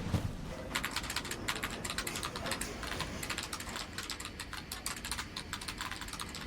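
Rapid, steady keyboard typing from a horror video game, a dense run of close, crisp key clicks with no pauses over a faint room background.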